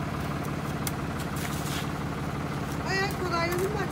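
A farm tractor idles nearby with a steady low rumbling drone throughout, while people talk over it and a voice briefly rises toward the end.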